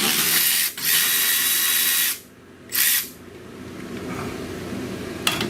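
Air-powered tool spinning a nut off car suspension during an Air Lift 2K airbag install, loud hissing whirring bursts with brief gaps, followed by quieter shop noise and a sharp click.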